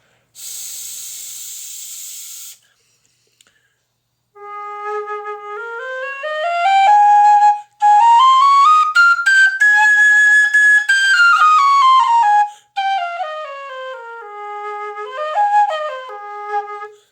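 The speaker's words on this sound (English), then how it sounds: "Much softer whistle." A soft, breathy tin whistle plays a slow melody that rises and falls, preceded by a brief airy hiss.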